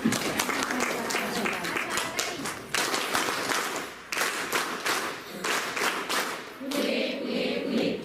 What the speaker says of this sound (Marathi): आपण सर्वांनी मिळून अगोदर त्यांचं टाळ्या वाजवून स्वागत करूया